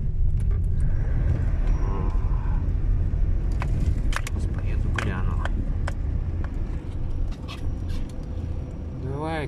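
A car with worn-out shock absorbers drives over rough ground near Murmansk, giving a steady loud engine and road rumble with rattles and clunks from the body while someone talks throughout.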